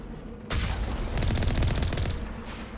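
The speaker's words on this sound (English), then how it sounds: "Oh, they're shooting at me." Turrets opening fire in Mass Effect, a sudden burst of rapid automatic gunfire that rattles on continuously for about two seconds, loud and close over low game ambience.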